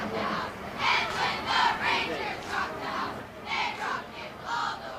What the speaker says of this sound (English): So the Clements cheerleaders, you can hear them doing their very best to keep the crowd enthused.